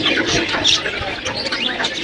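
Pigeons, budgerigars and other caged birds crowd a market stall at the Jinjira pigeon market in Dhaka, giving a busy overlapping stream of chirps, tweets and short calls close by, with a voice faintly mixed in.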